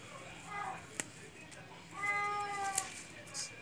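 A cat meows faintly several times in a home kitchen, with a couple of drawn-out, wavering cries; someone speaks softly nearby.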